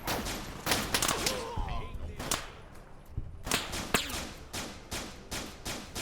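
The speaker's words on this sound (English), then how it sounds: "Looks like a laser rifle." Laser rifle fire from the video game Fallout New Vegas, modded, rings out as a series of sharp, snappy zaps in irregular bursts, some doubled in quick succession, with faint game ambience between shots.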